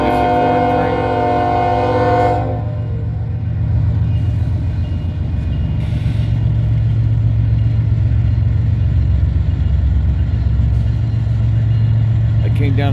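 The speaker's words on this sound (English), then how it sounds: "First one to roll is the corn train." A loaded corn unit train starts to roll west, a heavy low rumble building steadily with a sustained horn-like tone early on, loud and close throughout.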